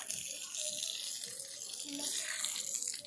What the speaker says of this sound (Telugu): అందులో బాగా పట్టు నీళ్ళు